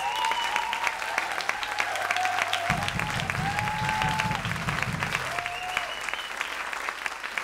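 An audience applauds at an evening performance, steady clapping filling the room while a sung or sustained tone drifts over it and a low musical hum enters partway through.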